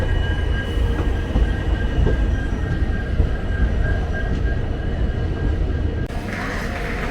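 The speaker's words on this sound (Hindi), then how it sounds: "यहाँ हमारी ट्रेन समय से 20 मिनट पहले पहुँच रही है गुंटकल जंक्शन" A train rolling into Guntakal Junction, a steady loud rumble of wheels and carriages with a faint high squeal running throughout, the noise continuous and close, no voices.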